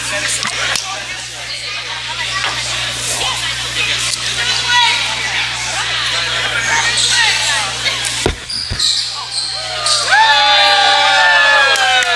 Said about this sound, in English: There is Sir Gideon leading the crowd to a roar.